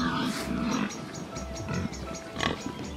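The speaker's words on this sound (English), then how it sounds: "You pigs are very, very loud." Pigs in a farm paddock grunt and squeal close by, a noisy jumble of repeated short snorts and oinks with a louder squeal near the end.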